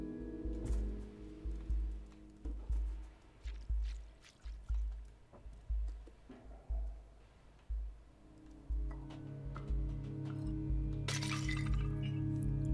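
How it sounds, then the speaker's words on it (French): A cat in the video game Stray knocks clay pots off ledges, each landing in a sharp crash and clatter of breaking ceramic, repeated in a steady series over a low ambient game soundtrack. "Je peux casser des pots sans me faire engueuler, je suis un chat"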